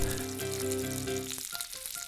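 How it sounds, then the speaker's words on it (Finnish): Lamb chops sizzle loudly in a hot pan with onion, tomatoes and butter, a steady close crackling fry with a few spatters and stirring clinks toward the end. "laitamme siihen kyljet, paistamme ensin yhdeltä puolelta, lisäämme sipulia ja paistamme toiselta puolelta."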